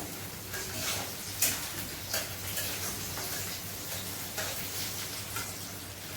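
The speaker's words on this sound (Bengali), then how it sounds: "পেঁয়াজ আমি লাল করে ভাজছি" Onions frying in a pan with oil, a faint, steady sizzle with light irregular ticks and crackles, close by and alone without talk.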